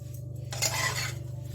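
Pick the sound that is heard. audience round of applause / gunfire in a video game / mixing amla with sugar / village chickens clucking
mixing amla with sugar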